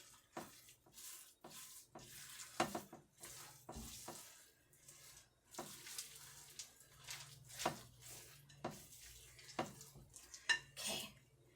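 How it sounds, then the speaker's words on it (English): No-bake chocolate peanut butter cookie mixture stirred in a pot, a spoon scraping and clacking against the metal in repeated uneven strokes, fairly quiet and close, with no voices. "So now we're gonna mix this all together"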